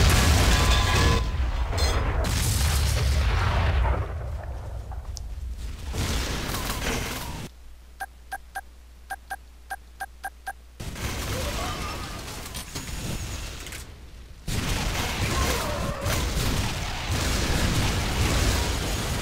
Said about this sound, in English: I'm getting hit by several rockets and I'm still alive